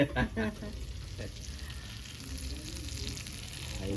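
Fish fries in oil with a close, steady sizzle. A few louder clatters at the start sound like stirring or turning, and then the bubbling crackle goes on evenly.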